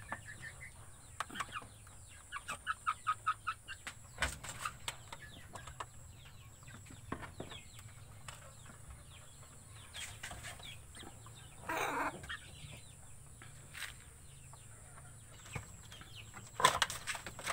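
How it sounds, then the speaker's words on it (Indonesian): Bangkok chickens, a mother hen with chicks about two and a half months old, cluck softly and intermittently in a quiet yard, with occasional wing flaps and scattered rustling. "Oke, ayam-ayam ini"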